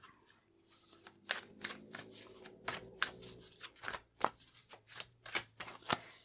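Tarot card deck being shuffled by hand, a run of crisp riffling bursts and sharp card slaps in an irregular rhythm, close and fairly loud, with no talk.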